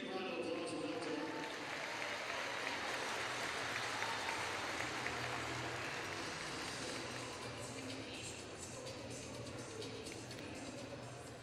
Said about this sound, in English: Let's give them a big round of applause for that tonight